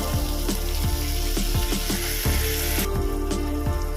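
Poppy seed paste goes into a hot pan for a prawn and poppy seed dish, setting off a loud, steady sizzle broken by rhythmic scraping clicks of a spatula against the pan, close up, with no talk.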